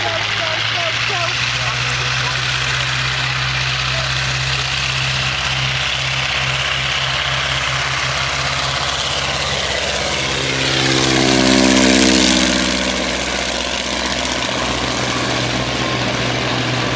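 A Fieseler Fi 156 Storch takes off, its piston engine and propeller droning loud and close, swelling to a peak around the climb before easing off, with no talk over it.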